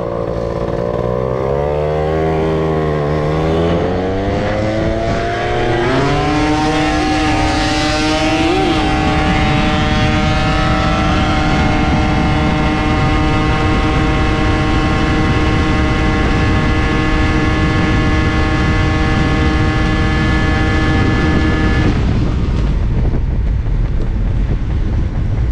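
A Yamaha DT 125 two-stroke motorcycle accelerating hard at full throttle, its engine note climbing steeply then holding a loud, sustained buzzing whine close by before cutting off near the end.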